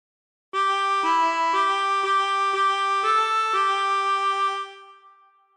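Harmonica playing a phrase of The Yellow Rose of Texas, a string of sustained blown and drawn single notes in a steady rhythm, close and clear, ending on a held note that fades, with no voices.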